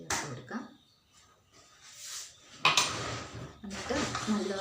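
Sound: spoon mixing pineapple paste with milk in a bowl

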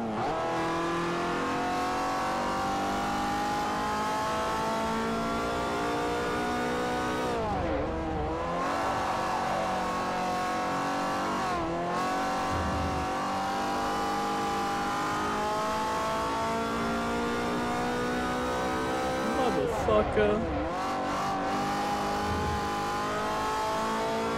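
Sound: car engine revving in Forza Motorsport 4 video game

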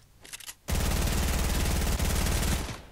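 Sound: P90 gunfire in the video game Fortnite

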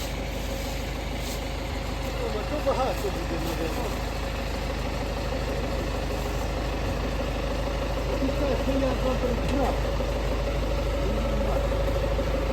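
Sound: MTZ 892 tractor engine pulling homemade stubble cultivator

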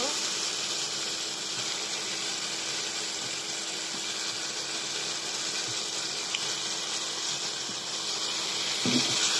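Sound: meat added to sizzling spice paste in pan

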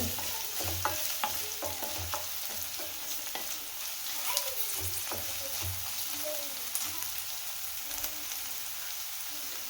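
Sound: vegetables stir-frying on medium-high flame for veg hakka noodles

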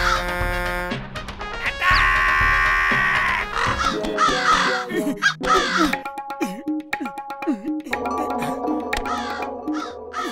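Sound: cartoon crows cawing while attacking

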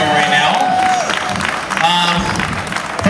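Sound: applause

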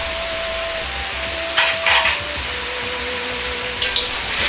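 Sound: frying mapo eggplant with green pepper and leek sizzling

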